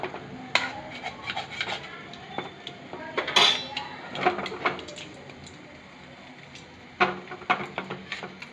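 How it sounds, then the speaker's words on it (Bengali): Kheer mixture being stirred in a pan for homemade kheerer pantua, giving scattered scraping and clinking of a spoon against metal with brief louder clanks, no talk. "বন্ধুরা, এরকমভাবে সবসময় নাড়তে হবে, নাহলে নিচে বসে যাবে।"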